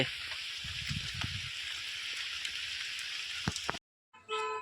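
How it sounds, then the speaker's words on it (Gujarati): A steady, dense hiss of heavy rainfall continues throughout, with a few sharper drips, then cuts off abruptly near the end; on Barda hill. "ફૂલ વરસાદ ચાલુ છે"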